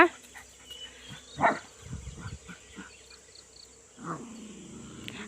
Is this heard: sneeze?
no